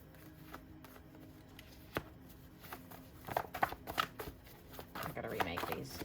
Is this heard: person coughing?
no